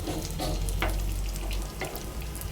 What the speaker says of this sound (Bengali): এই যে এখন ডাল পুরিগুলো দিচ্ছি